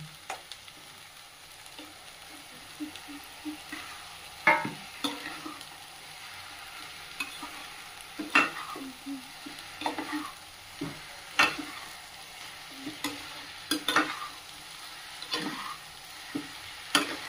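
Fish simmers in a spiced gravy in a pan, a faint, steady sizzle punctuated at regular intervals by sharp clacks and scrapes of a spatula stirring. The sound is fairly quiet, and nobody speaks.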